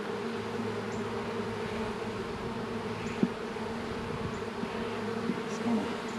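Honey bees buzzing from an open hive during a late-March inspection, a steady close drone with a few faint clicks and knocks.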